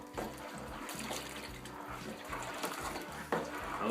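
Water pours steadily into a plastic brewing bucket for homebrewed Canadian draught beer, a continuous splashing rush with a low rhythmic undertone, close and fairly loud with no talking.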